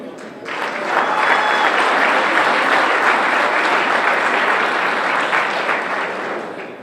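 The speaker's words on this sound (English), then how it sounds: "Give her a round of applause." A crowd claps steadily for several seconds, loud and sustained, swelling quickly at the start and fading slightly near the end.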